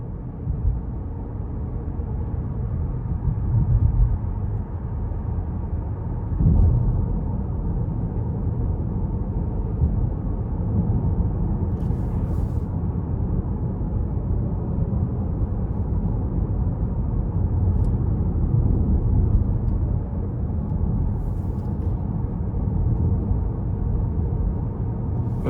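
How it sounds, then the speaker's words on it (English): Inside a 2021 Buick Envision Preferred with a 2.0 turbo four-cylinder while driving, a low, steady engine and road rumble drones for the whole stretch, fairly muted with no voices. "the engine bay gives out minimal sound, but it still sounds sporty with the"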